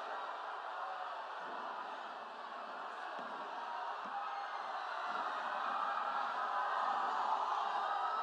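Sustained audience clapping and crowd noise at a government public-service event in Malda attended by the Chief Minister, a steady dense wash of applause that swells slightly toward the end.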